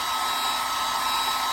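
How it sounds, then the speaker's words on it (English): A hair dryer blows steadily to dry a watercolor painting of a house finch, a constant close, loud whooshing hum with no pauses. "So I'm going to pick up my hair dryer right now and turn this thing on."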